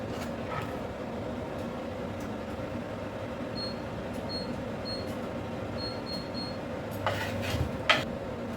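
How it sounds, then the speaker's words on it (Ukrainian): A kitchen extractor hood runs over onion frying in a pan, giving a steady mid-level whirring hum, with a few faint beeps and some clattering near the end. "Зараз буде трошки шуміти, тому що я е, включаю витяжку, звісно."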